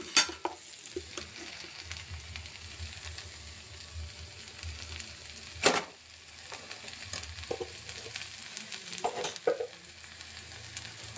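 Sliced okra fries and sizzles steadily in a pan, with occasional sharp scrapes and clatters as a spoon stirs it through, no voices over the crackle.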